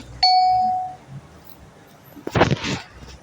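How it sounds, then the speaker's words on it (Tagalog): A doorbell chimes indoors, one clear bright ding that rings out and fades, followed after a pause by a burst of nearby voices and movement. "Oh, may tao sa doorbell."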